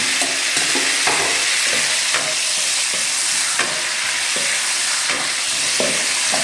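Garlic fries in melted margarine with a dense, constant sizzle. Repeated scraping stirs of a utensil in the pan fall at a fairly regular pace, and no one speaks.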